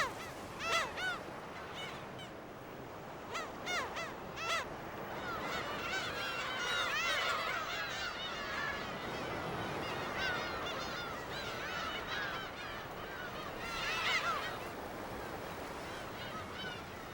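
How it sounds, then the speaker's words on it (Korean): Black-tailed gulls call at night on Dokdo, a dense chorus of overlapping harsh, honking cries over a steady wash of surf, with a few louder nearby calls standing out. "등대 불빛만이 괭이갈매기 울음소리를 비춘다."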